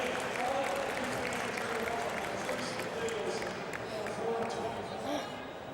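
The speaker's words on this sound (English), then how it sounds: "The Expo crowd are loving this." An Expo crowd at a strongman contest applauds and cheers steadily in the background, while a commentator talks over the noise throughout.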